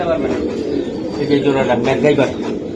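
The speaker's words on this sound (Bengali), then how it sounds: "আর এদিকেও কিছু কবুতর আছে" Several pigeons coo continuously and fairly close in a fancier's flock of Pakistani Teddy and high-flying Giribaz pigeons, overlapping murmuring calls under nearby background talk.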